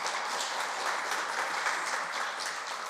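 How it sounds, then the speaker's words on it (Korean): A church congregation applauds during a Sunday worship sermon, a steady, even wash of many hands clapping at moderate volume for a few seconds, with no voices over it. "여러분, 이 정도면 박수 한번 쳐줘야 되는 거 아닙니까?"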